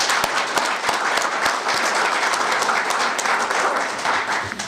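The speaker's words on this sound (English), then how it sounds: "just give a little one more applause to let them know what a great job they've done" An audience at a town meeting applauds, a dense steady roar of many hands clapping that holds evenly throughout and tapers slightly near the end.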